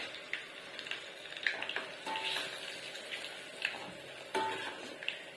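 Curry leaves and asafoetida crackle in hot oil while tempering for a ginger chutney. The sizzle is soft and steady, with scattered sharp pops and spits throughout.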